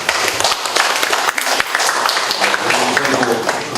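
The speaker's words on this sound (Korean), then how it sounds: "큰 박수 부탁드리겠습니다." Loud, continuous applause from an audience at a community education session in Yuseong, Daejeon, a dense wash of clapping filling the room without pause.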